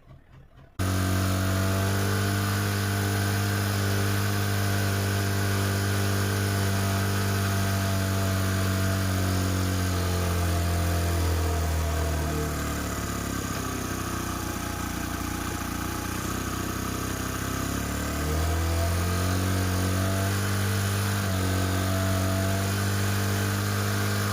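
A motorcycle engine idles steadily while its carburetor air screw is adjusted for better mileage; the close, continuous hum sags and slows partway through, then recovers to an even idle, with no talking.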